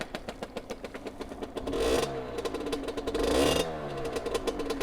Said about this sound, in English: I love the little sound of the high-pitched rev.